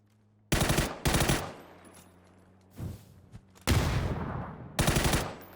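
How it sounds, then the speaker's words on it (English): Gunfire in PUBG during a pro esports scrim: several loud broadband bursts of shots, spaced unevenly with brief gaps between volleys and no talk over them. "Hits one shot, looking for a second."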